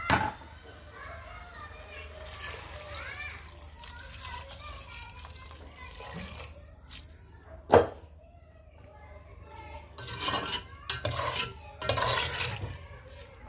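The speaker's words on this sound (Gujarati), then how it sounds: "હવે માપ અનુસાર આપણે નાખીશું અંદર પાણી" Water splashes in short bursts near the end as it is poured into a pot of vegetable pulao, while people talk and children's voices are heard in the background.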